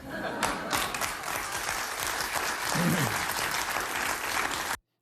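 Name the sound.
hollow clapping from a live TV studio audience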